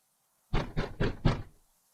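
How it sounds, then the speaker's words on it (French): Four firm knocks on a closed door in quick, evenly spaced succession, close and loud, with no voices over them. "on tape à la porte"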